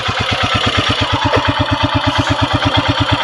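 Royal Enfield motorcycle engine thumping in first gear with the clutch released on a Zanskar valley ride, a steady rapid single-cylinder pulse, loud and close, with no talk.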